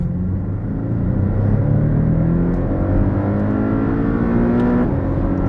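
A Porsche Cayman sports car engine revs hard close by, its note climbing steadily through the gears as it pulls toward its limit, loud and unbroken, with no talking.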